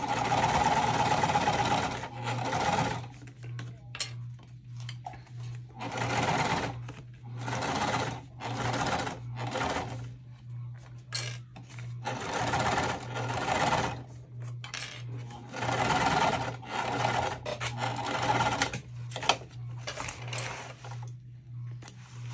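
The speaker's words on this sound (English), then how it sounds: "I'm gonna top stitch probably a little bit deeper" A sewing machine top-stitches the slip pocket lining of a tote bag in a series of short whirring runs, each burst followed by a brief pause, heard close and alone.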